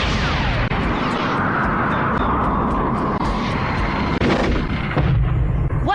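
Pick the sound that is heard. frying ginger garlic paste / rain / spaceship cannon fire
spaceship cannon fire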